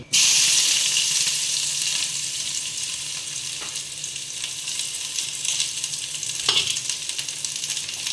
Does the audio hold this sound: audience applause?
no